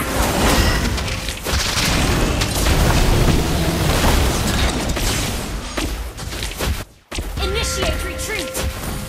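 A turret being destroyed in Mobile Legends: Bang Bang, with loud continuous booming crashes and impacts layered over game music and effects. A brief dropout comes near the end, then the clatter returns.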